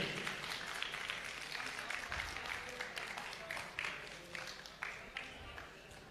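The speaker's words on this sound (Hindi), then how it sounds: "एक बार खुद के लिए जरूर तालियां बजा दीजिएगा" Applause from an audience at an education fair rises and thins out across several seconds, with an anchor speaking over the clapping.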